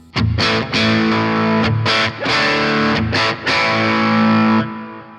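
Loud, heavily distorted electric guitar through a Boss Nextone amp's lead channel, playing sustained chords with short breaks between them, a thick saturated lead tone ringing out alone.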